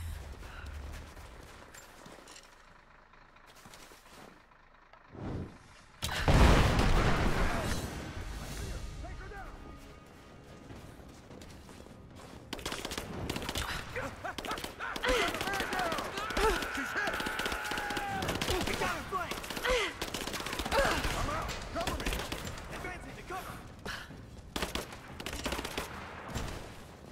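Bursts of gunfire in the video game Rise of the Tomb Raider crack out in rapid volleys over a steady game soundscape, moderately loud, with a loud impact near the start and sustained shooting through the latter half.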